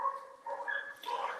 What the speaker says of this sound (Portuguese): Me perdoem, galera, pelos cachorros